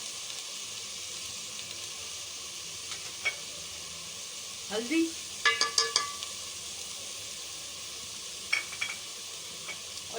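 Turmeric, fenugreek, ground chili and salt sizzle in half a cup of hot oil with ginger-garlic paste in a pan. The frying hiss is steady and moderate, with a few louder crackles and stirring clinks midway and a brief spoken word.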